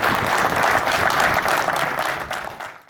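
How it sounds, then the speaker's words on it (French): Audience applause at an authors' evening held by a publishing house, a dense sustained clapping from a full room that holds steady and then tapers off at the end. "Un tonnerre d'applaudissements."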